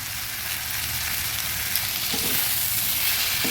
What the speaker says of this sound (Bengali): দিয়ে দিচ্ছি পেঁয়াজ কলি আমি ছোটো ছোটো করে পেঁয়াজ কলিতে কেটে নিয়েছি